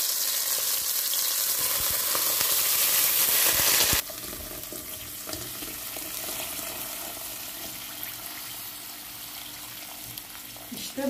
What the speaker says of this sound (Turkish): Şimdi de suyunu ilave edeceğim ve pişmeye bırakacağım.